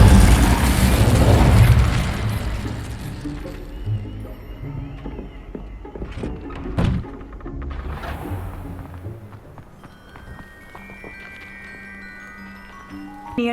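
An Incendio fire spell cast in Hogwarts Legacy bursts out with a loud, booming whoosh, followed by a second sharp burst a few seconds later. Quieter game ambience with soft mechanical clatter follows.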